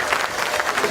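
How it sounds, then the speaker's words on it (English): Dense crowd applause at a corporate rebranding launch for Kenya Re. The clapping is loud and continuous for the whole moment. "Congratulations, you deserve a clap."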